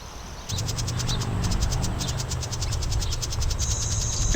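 Immature house wren calling in a community garden: a steady run of rapid, high chattering notes repeated through the clip, close and fairly loud over a low background hum.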